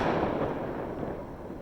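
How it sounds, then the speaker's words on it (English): Firecrackers set off on New Year's Eve and heard from a rooftop make a dense, crackling burst of pops. The burst is brief, moderately loud and slightly distant, and it fades a little toward the end. "Firecrackers from a rooftop."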